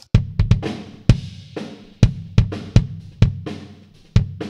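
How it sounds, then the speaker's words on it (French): A dry, punchy kick drum with no EQ hits in an uneven pattern, each thump sharp and short with a quick decay, alone with nothing else playing. "si je vais ici sur mon kick, sans EQ, ça sonne comme ça."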